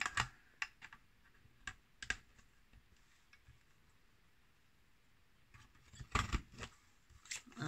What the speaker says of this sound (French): je vais venir utiliser la punchboard frame